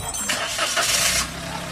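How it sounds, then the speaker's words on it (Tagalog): A Toyota Wigo car engine starts after an oil change and flushing, a brief cranking burst rising into a steady running hum, close and moderately loud. "Ibalik ko na yan mga boss, tapos pa-start ko na itong makina"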